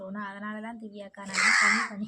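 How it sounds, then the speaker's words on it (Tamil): Crow cawing close by, a harsh, loud burst that comes right after a stretch of talking. "காக்கா ஒன்று வந்து வெளியிலே வரமாட்டேங்குது விரட்டி விரட்டி அடிக்குது"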